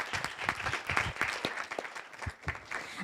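Audience applause for a panelist at a STEM education conference, soft, scattered clapping from a crowd heard at a distance, fairly faint and irregular.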